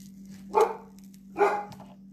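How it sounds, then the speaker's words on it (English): A dog barks at squirrels, two loud barks spaced about a second apart over a steady low hum. "He's barking at the squirrels."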